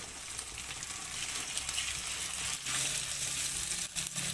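Green chili and egg fried rice sizzle in a pan over medium heat, a steady close frying hiss that runs without pause for a few seconds with no talking.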